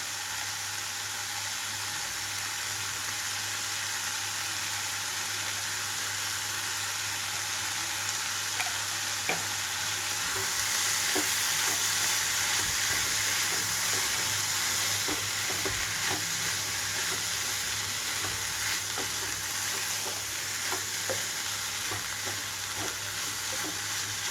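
Broad beans and toor dal fry in a pan as chili powder is stirred in, with a steady soft sizzle and scattered light scrapes of a spoon, close and without speech.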